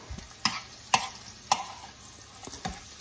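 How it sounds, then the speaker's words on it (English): Onions sautéing in a pan while cooking canned green beans, a soft steady sizzle broken by several sharp scrapes and taps of a utensil stirring against the pan, close and fairly quiet. "Once you saute your onions, then you will"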